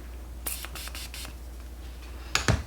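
Several quick, quiet hissing bursts of a makeup setting spray bottle, then a pause and a couple more sprays, with faint rustling between.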